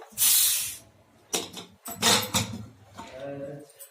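A pressure cooker of bathua soup, Bihari style, gives a loud, hissing steam-release whistle at the start, followed by several shorter hissy bursts and clatter nearby.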